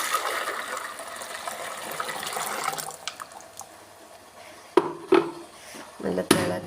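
Boiling hot water poured from a kettle makes a soft, steady liquid stream for a few seconds, followed by scattered drips and small clinks nearby.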